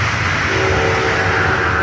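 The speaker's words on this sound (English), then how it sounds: "Commuter train, not a freight train, so not too bad." A commuter train rolls past close by, its steady loud rumble and clatter of wheels on rails filling the scene continuously, with a faint tonal whine riding on top.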